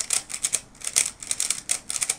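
A lubricated GuHong speed cube with its pegs removed is turned very fast, making rapid bursts of crisp plastic clicking and clattering in quick uneven runs, close up and with no talk.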